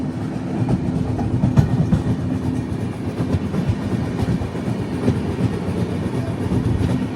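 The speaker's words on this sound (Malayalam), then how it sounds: "ട്രെയിൻ ഇപ്പോൾ ഗോൾപാറ ടൗൺ റെയിൽവേ സ്റ്റേഷനിലേക്ക് ഇതാ എത്തുകയാണ്" Vivek Express rolling into Goalpara Town railway station, a steady close rumble of train carriages with rhythmic clickety-clack of wheels over rail joints throughout, no voices.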